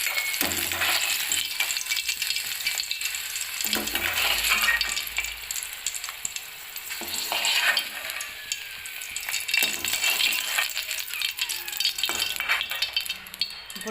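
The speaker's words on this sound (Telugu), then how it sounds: "పచ్చిమిర్చి వేగిని వేసేస్తాం. ఈ విధంగా వచ్చే వరకు వేయించుకోవాలి." Green chillies sizzle and fry in a pan, a steady close hiss with occasional stirring scrapes and light clinks, no talking.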